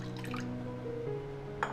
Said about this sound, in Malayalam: കുറച്ച് ഇതിൽ വെള്ളം ഒഴിച്ച്